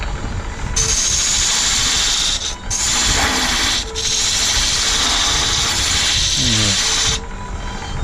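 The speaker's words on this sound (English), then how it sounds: "I want to be able to drill out most of the center cut." A steady, grinding power drill bores out the center of a wooden ball-and-cup toy, running continuously with two brief pauses before stopping near the end.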